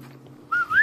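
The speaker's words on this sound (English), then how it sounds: "I did the Zelda whistle." A short whistled melody from the Zelda games, used to call a dog, comes in as two quick rising notes after a faint low hum, close and clear.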